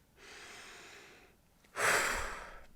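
Two slow, close breaths, a long soft inhale followed by a louder, rushing exhale, alone with no talk.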